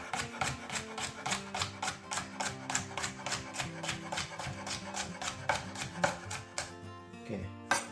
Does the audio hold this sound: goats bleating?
no